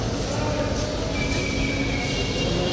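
The Punarbhaba local commuter train rumbles at a railway station with a steady, close, low roar and a faint thin squeal running through part of it; no one speaks.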